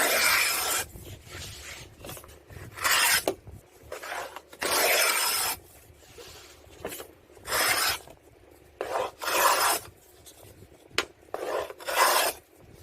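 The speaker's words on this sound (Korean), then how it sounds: "대패를 이용해서 양 옆면을 모두 대패로 날려주고, 그리고 사포로 다듬어서" A hand plane and sandpaper work the side edges of 4.5 mm plywood for a cabinet door frame, giving repeated loud rasping strokes in irregular bursts with quiet pauses between them, close up and with no talking.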